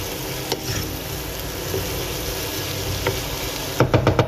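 Masala-coated okra and potatoes are stirred in a pan over a low, steady sizzle, with a few soft scrapes early on and a quick run of spoon clicks at the end.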